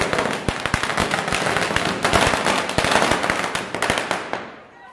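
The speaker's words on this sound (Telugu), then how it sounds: "ఇలా కలిసి క్రాకర్స్ కాల్చడం అనేది చాలా హ్యాపీగా అనిపించింది నాకైతే" Diwali firecrackers burst in rapid succession at a family celebration at home, loud sharp cracks and pops overlapping for several seconds before fading at the end.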